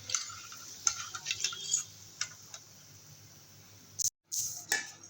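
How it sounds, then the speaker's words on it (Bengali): Pumpkin flower and flattened rice pakoras fry in hot oil, giving a soft, steady sizzle dotted with crackles and ticking pops, faint and close, with a brief stir and no talk. "একইভাবে আমি সবগুলোকে ভেজে নেব"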